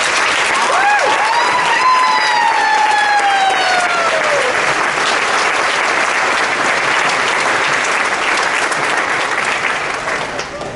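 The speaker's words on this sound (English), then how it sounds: "Can we give them a huge round of applause?" A large theater audience gives loud, sustained applause for high school bands at a spring concert, with whoops and cheers rising over the dense clapping early before it tapers slightly at the end.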